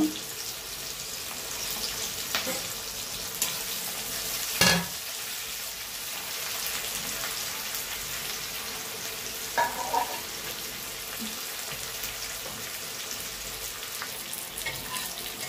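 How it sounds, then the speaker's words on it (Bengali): Onions frying in hot oil for biryani, a steady close sizzle with occasional stirring scrapes and a sharp clink of a utensil against the pan. "বেরেস্তার জন্য আমি পেঁয়াজটা ভেজে নেব।"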